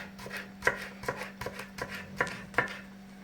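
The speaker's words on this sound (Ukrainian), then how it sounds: "Насіння я вибрала і буду дрібнесенько різати, нарізати перчик." A knife chops pepper finely on a board, giving about seven crisp, evenly spaced taps against a faint steady hum, close and quiet.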